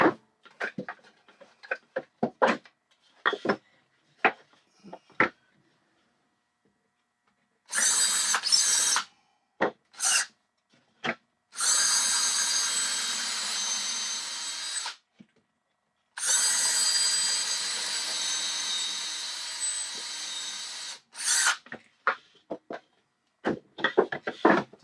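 A power drill bores holes into a wooden drawer, with several sustained whirring bursts of several seconds each and short gaps between them, set among scattered clicks and handling taps.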